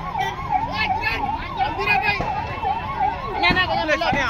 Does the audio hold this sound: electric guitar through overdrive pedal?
no